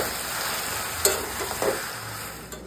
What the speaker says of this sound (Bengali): এখন ভালো করে 10 মিনিট কষিয়ে নেব